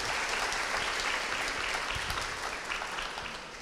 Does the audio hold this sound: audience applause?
yes